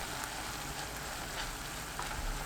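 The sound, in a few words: kohlrabi stir-frying in a pan with perilla seed powder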